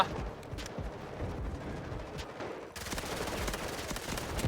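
Rapid pistol fire in the shooter game Delta Force, with dense bursts of close, sharp shots cracking back to back and growing louder and busier toward the end.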